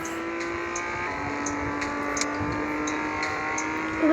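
A car engine in a mobile racing game on a phone drones at a sustained, fairly steady pitch, with a step up partway through and faint repeated ticks over it, no talking.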